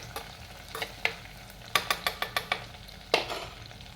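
Onions and spices sautéing in a pan for a tuna fish curry, with a soft steady sizzle broken by a run of sharp, close metallic spoon clicks and scrapes against the pan.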